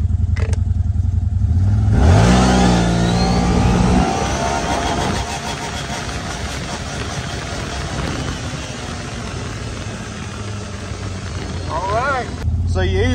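CFMOTO ZFORCE 950 Sport G2 with a performance tune, revving on a dyno in sport mode and low gear, its engine loud and close, rising in pitch, then holding a steady high drone before dropping off.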